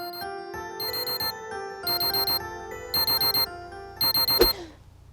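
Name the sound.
alarm clock ringing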